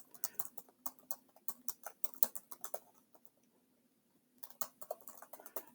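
Rapid clicking of computer keyboard keys during a Java programming lesson, irregular bursts of typing with a short pause before it resumes, close and moderately quiet.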